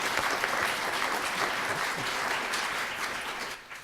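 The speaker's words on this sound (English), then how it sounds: "So let's give Frank a round of applause." A seated audience at a panel program gives a steady, dense round of applause for a panelist. The clapping is continuous and fairly loud, then tapers off in the final moment.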